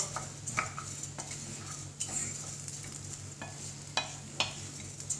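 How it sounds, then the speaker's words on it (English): Risotto rice is stirred through melted butter in a pot, with a soft continuous sizzle and repeated light scrapes and taps of the spoon against the metal. "just stir the rice, cover it with the butter"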